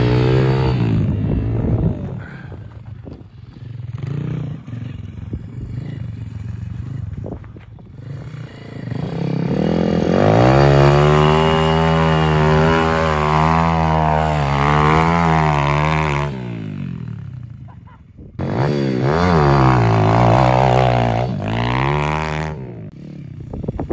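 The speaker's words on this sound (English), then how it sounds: "I'm just gonna try and get like a fat roost right there, just to prove that this bike can roost" An Apollo RFZ dirt bike revving hard in mud, its engine rising and falling through repeated throttle blips and sustained high-rev roosting, loud and close, with mud clatter in between.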